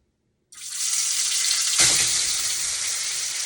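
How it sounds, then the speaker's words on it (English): Tofu drops into hot oil and bursts into a loud, steady sizzle that continues evenly as it fries toward crispness, with a brief crackling flare just after it goes in. "right now I'm going to fry tofu first to let them, good, taste good, crispy."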